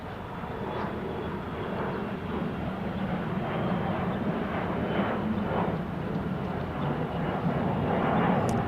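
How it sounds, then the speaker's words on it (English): Embraer E175 jet taking off at Salt Lake City airport, a broad, distant roar that swells slightly louder over several seconds, steady and unbroken, with no voices. "So like on this E175 that's taking off, you have a more conventional winglet, right?"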